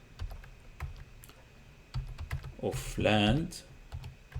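Typing on a computer keyboard while writing a Java program: scattered soft key clicks in an irregular rhythm, close and fairly quiet, with someone talking briefly partway through.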